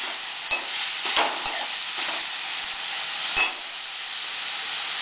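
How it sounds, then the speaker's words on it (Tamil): Ingredients for Srirangam-style tomato bath sauté in a hot pan, with a continuous hissing sizzle and a few sharp clinks and scrapes of a spatula stirring. "அதை வதக்கணும். நல்லா வதக்கணும்."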